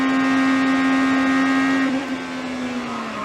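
Onboard sound from an IndyCar racing in the 2018 season during a crash: a loud, steady high-pitched engine tone holds for about two seconds, then wavers and slowly falls as the car loses speed.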